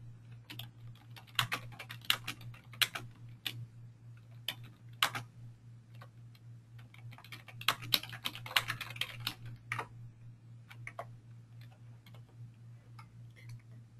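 Someone types a comment on a computer keyboard, quick irregular key clicks in bursts with short pauses, close and quiet over a steady low electrical hum.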